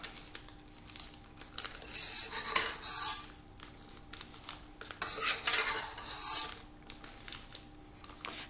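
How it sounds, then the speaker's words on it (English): A metal spoon mixes meringue in a bowl, giving close scraping and clinking strokes. The strokes come in a few uneven bursts over a quiet background. "I'm going to put the meringue in again. I like to use a metal spoon."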